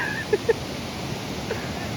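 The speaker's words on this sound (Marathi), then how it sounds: "हा इथला पाणी या साईडने जातो खालती इकडे" A stream in a Konkan village runs downhill in a steady broadband rush, continuous and fairly close, with a couple of brief knocks early on.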